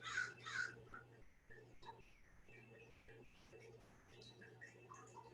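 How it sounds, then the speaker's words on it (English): A crow caws a couple of times outdoors during an online yoga class, the calls faint and distant at the start, with a voice speaking softly over a steady low hum. "I hear a crow"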